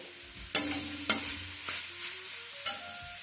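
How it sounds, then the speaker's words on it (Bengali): A utensil stirs and scrapes grated coconut against a wok in a handful of sharp, separate strokes, with a faint sizzle underneath and no talking. "নারকেলটা দিয়ে দিলাম কড়াইতে"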